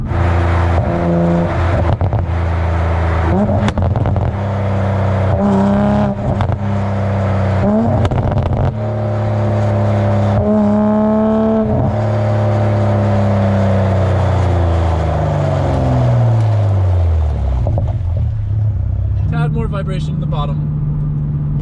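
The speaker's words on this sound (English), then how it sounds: "you can't put a new exhaust on the car and not rev it up and not drive it around" A car with a newly fitted exhaust revs repeatedly, the engine note rising and falling in loud, close bursts with pops, then winding down in a long falling sweep before a final rev, while someone talks over it.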